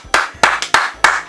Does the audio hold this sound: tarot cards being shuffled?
no